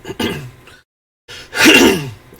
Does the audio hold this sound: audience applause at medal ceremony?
no